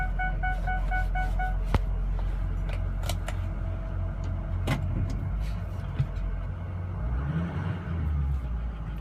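A 2006 Ford F350 pickup truck driving in four-wheel drive, its engine rumbling low and steady from inside the cab, with a few faint rattles and clicks.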